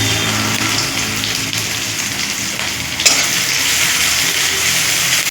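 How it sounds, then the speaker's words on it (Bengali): Onion and garlic frying in hot oil for an egg curry, a loud, close, unbroken sizzling hiss with one brief louder crackle midway, no voices. "পেঁয়াজ রসুন একটু ফ্রাই হবে"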